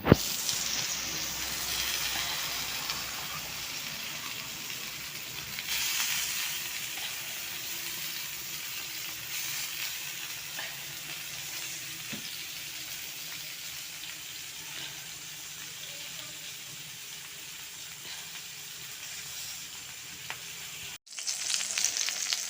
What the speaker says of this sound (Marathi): तर अशा प्रकारे आम्ही हे प्रॉन्स फ्राय करून घेतो आहोत